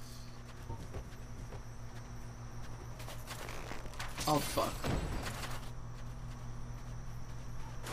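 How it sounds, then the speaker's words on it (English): Footsteps from the video game Dark Souls: a run of soft, regular steps with clip-clop quality beneath a steady game hum, briefly overlapped by a short spoken exclamation and a louder thudding burst in the middle. "I keep hearing footsteps."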